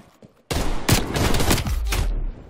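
Automatic gunfire in Call of Duty Cold War bursts in suddenly after a near-silent start, a loud rapid volley with a few sharper cracks, continuing for about two seconds before cutting off.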